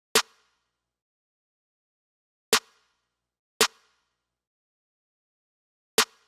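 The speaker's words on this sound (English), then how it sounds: "this is the exact snare pattern that I used to make this beat" New York drill beat snare pattern: four sharp, isolated snare hits spaced irregularly across silence, each crisp and short with a quick decay.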